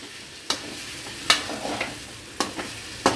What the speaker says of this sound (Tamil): இப்போ நல்லா அந்த மசாலாலாம் மிக்ஸ் பண்ணிக்கலாங்க